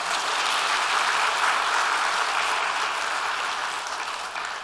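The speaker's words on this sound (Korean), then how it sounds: "저분에게 한번 큰 박수 한번 해주세요." A church congregation claps in loud, sustained applause that fills the room evenly and then begins to fade toward the end.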